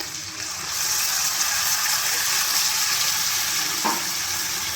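Ground spice paste sizzling in hot oil in a wok with fried potato and papaya, a steady broad hiss throughout with a brief clink near the end.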